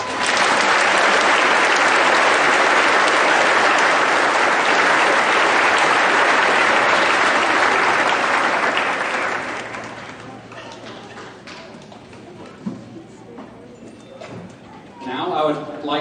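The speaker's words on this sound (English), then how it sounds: "Please give a round of applause to this year's IESA Scholar Attitude nominee, Ms. Crystal Cornwell" Audience applause at a 2019 school promotion ceremony, loud sustained clapping from a large crowd for about ten seconds, then trailing off into quieter room noise, with speech near the end.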